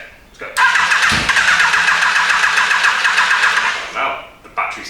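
Yamaha FJ1200 motorcycle engine cranking on a flat battery, a steady loud starter whirr with rapid pulsing that runs about three seconds, then stops briefly and resumes.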